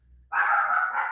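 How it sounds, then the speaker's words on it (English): A dog in the house barks once, a short sharp bark heard somewhat off-mic after a quiet moment. "That's my dog going off in the background."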